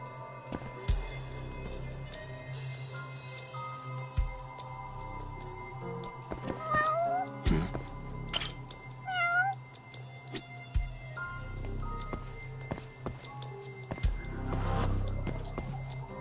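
A cat meows several times in the video game Judgement, short rising and falling cries spread over the scene against a steady game ambience and scattered effects.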